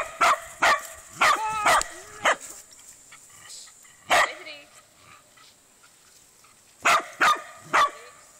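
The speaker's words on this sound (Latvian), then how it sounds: "beidz riet" Dog barking indoors in a household, sharp barks and yips in quick clusters near the start, then a single bark and a final burst of three, close and loud with quiet gaps between.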